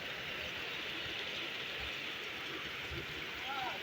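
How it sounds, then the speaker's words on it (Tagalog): Steady heavy rain roars in a dense, unbroken hiss with no pauses, a constant downpour filling the whole clip, beside a parked car. "Yung ulan. Ang lakas."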